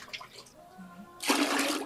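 Water is poured into a cup, heard as a sudden rushing, splashing stream that starts after a quiet moment and continues loudly to the end, with faint sounds of movement before it.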